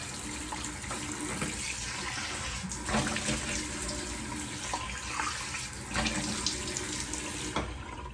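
Water runs steadily from a tap for rinsing off after a shave, a continuous close splashing wash with small shifts in the flow and no voices.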